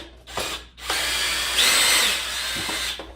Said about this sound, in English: Even though I don't recommend using drill machine, but if you use it, be careful.